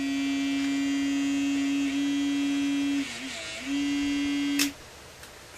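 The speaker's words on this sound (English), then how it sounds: "we're going to check operation of the low pressure blower again" Low pressure blower running inside a radio-controlled Seaview submarine model, a steady electric motor hum and whine that dips briefly and returns before cutting off with a small click, close with no talking.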